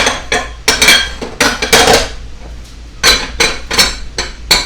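A metal lid clatters and scrapes onto a pot on a stove, with a string of loud, close clinks and knocks in two bursts and a short lull between.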